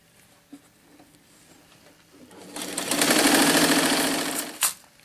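A sewing machine stitches the hem of a homemade hammock, with faint handling sounds first and then a close, steady two-second burst of rapid needle stitching that stops with a sharp click.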